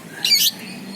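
A young cendet, a long-tailed shrike, gives one short harsh squawking call, loud and close, standing alone against faint background noise.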